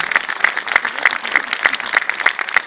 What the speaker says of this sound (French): on peut applaudir Alice Paul